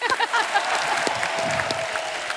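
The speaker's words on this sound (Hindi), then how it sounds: "जोरदार तालियां" Loud, sustained applause from a TV comedy show studio audience forms a dense, steady wash of clapping throughout.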